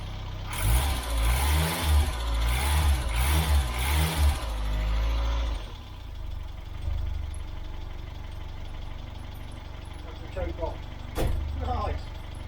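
An Austin Allegro car engine running in a garage, a loud pulsing idle with rhythmic revving for several seconds before settling into a low steady hum, with brief clanks later.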